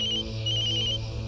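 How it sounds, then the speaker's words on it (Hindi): A mobile phone ringtone plays loudly and close, a bright electronic melody of repeating tones with a short break before the pattern resumes, over a steady low hum. "अरे, मेरा फोन बज रहा है।"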